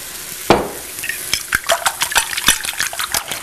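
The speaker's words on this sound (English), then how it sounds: "So we are going to scramble up our eggs." Eggs with a little milk being whisked and scrambled in a pan, a quick series of clinking utensil taps against the pan over a light sizzle, close and fairly even in rhythm.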